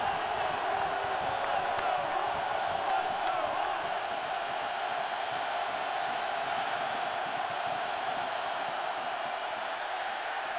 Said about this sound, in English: this sellout crowd trying to make life miserable for their neighbors from Wisconsin